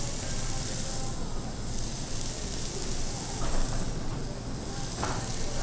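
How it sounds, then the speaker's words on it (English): Baby lamb chops sizzle in grapeseed oil on a smoking-hot grill pan, a steady close, loud frying hiss that holds for several seconds with brief crackling spurts and no voices. "we're starting with a hot grill pan. You can see the smoke. We have some grapeseed oil, and we're gonna add a couple of baby lamb chops"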